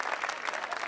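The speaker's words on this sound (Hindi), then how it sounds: "तालियां बजा दीजिएगा" Audience applause at a kavi sammelan poetry recital in Ghaziabad, a short dense burst of clapping from a crowd, fairly even and moderately loud throughout the brief moment.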